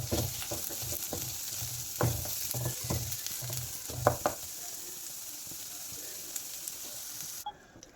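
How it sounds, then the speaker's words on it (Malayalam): Chopped onion and garlic sizzle and fry steadily in a pan, with scraping stir strokes in bursts for several seconds before the pan falls to a quieter, even frying hiss. "ഒരു മീഡിയം സൈസിലുള്ള സവാള ചെറുതായി കട്ട് ചെയ്തിട്ടുള്ളതാണ്. അതുകൂടി ഇട്ട് കൊടുത്തൊന്ന് ഇളക്കി കൊടുക്കാം."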